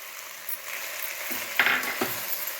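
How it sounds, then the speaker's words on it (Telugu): Carrots drop into a hot frying pan of oil for vegetable biryani, giving a soft sizzle with a few clinks and scrapes of a spoon against the pan, close and fairly quiet. "ఇప్పుడు క్యారెట్ వేసుకుందామండి"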